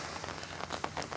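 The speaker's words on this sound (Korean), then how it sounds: "또 비가 시작되네" Rain falls at Songjeong beach, a dense, steady patter of drops hitting surfaces close by, with no voices over it.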